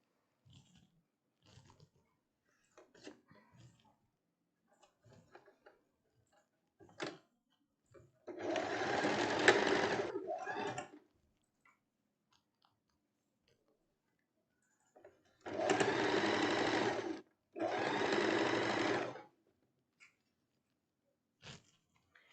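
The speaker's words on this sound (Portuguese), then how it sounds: "e agora eu venho costurando aqui" A domestic sewing machine stitching a blouse seam, with two separate whirring bursts of a few seconds each, quiet handling noises between them, and no talk.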